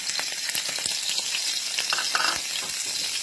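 Sliced lotus stems cooking with minced pork in a hot pan, giving off a loud steady sizzle close by, with sharp pops and a few scraping stirs.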